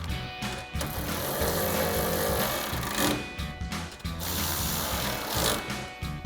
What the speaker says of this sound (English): reinstall your 2 bolts and tighten them down with a 10mm socket